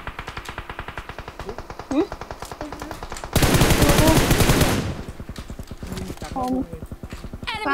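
Automatic gunfire in PUBG Mobile rattles out in a loud, dense burst midway, set against a steady run of rhythmic in-game footstep thuds, with players talking over it.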